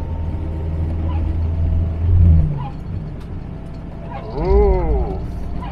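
A Morris 1300 barn-find car driving along, its engine droning low and then swelling in two revving surges as the driver works up through the gears, heard from inside the cabin.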